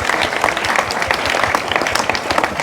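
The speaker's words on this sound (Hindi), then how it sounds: "तो चाहत के लिए ताली तो बनती है।" Dense burst of applause from an audience of children during a health and food-purity march event in India, close, continuous clapping for a few seconds.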